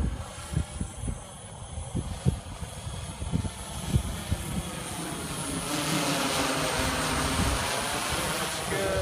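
A DJI S1000 multirotor drone flying outdoors, a steady buzzing rotor drone with some wind buffeting and handling bumps early, growing steadier and slightly louder as it hovers.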